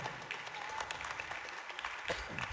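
A congregation at a Christmas mass in Nangathur claps hands together, a fairly quiet, scattered patter of many claps spread through a large room, with faint voices underneath.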